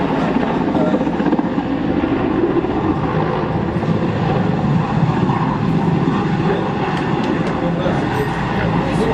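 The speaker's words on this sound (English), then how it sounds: "The helicopter tail just touches the floor, leaving it to snapping off and spiral out of control" A helicopter crashes after its tail strikes the ground and snaps off, giving a loud, continuous engine and rotor roar with crackling debris-like noises; voices are faintly mixed in.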